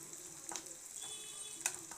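Onions sautéing in a pan for an egg and capsicum gravy, a faint steady sizzle with a few soft scraping stirs, heard alone without talk.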